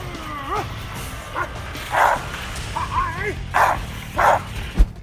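Several dogs bark and yip in short, uneven bursts, some with whining tones between them, fairly close and loud, ending with a sharp thump.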